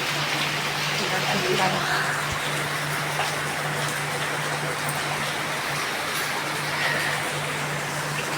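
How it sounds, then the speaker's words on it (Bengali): Heavy morning rain falls in a steady, dense hiss that fills the whole stretch, with a constant low hum underneath and no talking. "দেখো আমাদের এখানে কত বৃষ্টি হচ্ছে আজকে সকাল থেকে"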